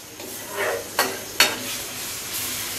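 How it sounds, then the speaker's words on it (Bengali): Ground garlic and cumin paste with chopped onion frying in hot oil in a pan, stirred with a utensil; a steady sizzle runs under several distinct scraping strokes close by. "এই যে বাটা মশলা দেওয়ার পর আম্মু নেড়ে চেড়ে নিচ্ছে"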